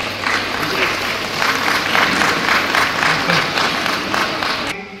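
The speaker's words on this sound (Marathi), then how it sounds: "आपण टाळ्या" An audience at a women's savings group annual general meeting claps together in sustained, steady applause that continues for several seconds before cutting off abruptly.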